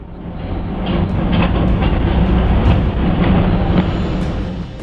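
A train rolls along the rails near the site of another train's derailment, picked up by an onboard CCTV camera: a loud, continuous rumble with scattered clicks and clanks that swells and eases slightly.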